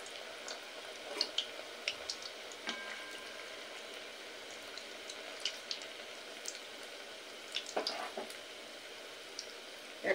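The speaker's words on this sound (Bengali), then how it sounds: "পিঠেগুলো আমি তেলের মধ্যে ছেড়ে দেব।" Moong puli pitha, Bengali lentil-filled dumplings, fry in oil with a faint, quiet sizzle, scattered soft pops and spatters breaking through at irregular moments.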